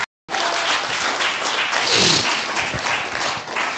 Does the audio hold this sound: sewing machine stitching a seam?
no